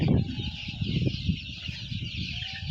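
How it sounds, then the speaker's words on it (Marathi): A batch of three thousand one-month-old chicken chicks on a poultry farm fills the air with dense, continuous high peeping, layered over scattered nearer clucks and low shuffling. "आज एक महिन्याची पिल्ले झालेले आहेत ही माझी टोटल तीन हजार पक्षाची बॅच आहे"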